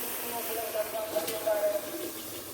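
Chicken stew simmers in a pot over a traditional outdoor charcoal stove, giving a steady bubbling hiss and sizzle with faint crackles, close and continuous with no talking.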